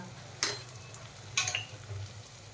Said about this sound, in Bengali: এবার এই সমস্ত মশলা আমি ভালো করে কষিয়ে নেব